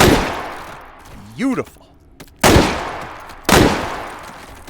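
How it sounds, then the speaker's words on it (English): Rifle shots from an AR fitted with an MRO sight in the H3VR VR shooting game, two sharp, loud reports spaced about a second apart with a short mechanical clatter before them and a voice speaking briefly. "5 whole shots of the most inappropriate cartridge for an AR imaginable"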